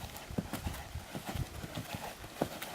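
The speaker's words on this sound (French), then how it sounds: "donc il prend bien le départ au galop" A young horse sets off at a gallop in a riding arena, hooves thudding in a quick repeating rhythm on the ground, fairly close, with creaks and ambient noise around.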